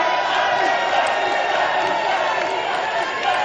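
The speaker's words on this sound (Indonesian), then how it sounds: "boleh tepuk tangannya." Supporters in the hall cheer and applaud at a regional regent election debate, a loud, dense crowd roar with clapping sustained throughout.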